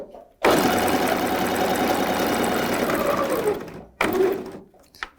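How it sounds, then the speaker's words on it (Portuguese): Sewing machine stitching a child's unisex jumpsuit, running in a steady loud whirr for several seconds, then pausing before a shorter burst of stitching. "Puxo sempre a ponta da linha para trás, costuro um pedacinho, retrocesso. Venho costurando."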